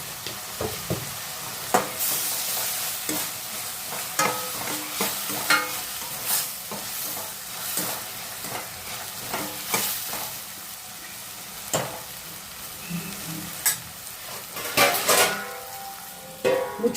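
Ginger garlic paste frying in a pan for karela palya, a soft sizzle beneath repeated scraping and clinking strokes of a spoon stirring close by in an irregular rhythm.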